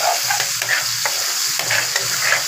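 Mustard greens saag base with salt and chili frying in a pan, a loud continuous sizzle broken by repeated scraping stirs of a spoon, close and with no talking.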